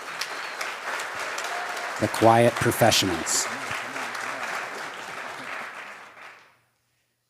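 Applause from an evening audience for a search and rescue team, steady clapping running throughout as someone speaks briefly over it, then fading out before silence.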